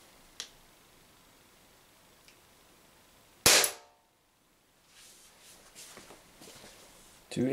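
A single sharp crack of a Umarex Walther PPQ M2 air pistol fired into cardboard, close and loud, after a quiet stretch with a couple of faint clicks, followed by soft handling noises and a voice.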